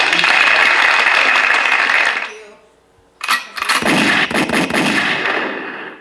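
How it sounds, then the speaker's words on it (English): Gunshot and applause sound effects play on a podcast: a loud burst of clapping-like noise cuts off into near silence, then a sharp crack launches a second dense, rattling burst that carries to the end. "I gave you some gunshots and applause."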